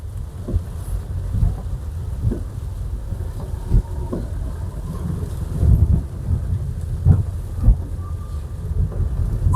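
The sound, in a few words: heavy rain with thunder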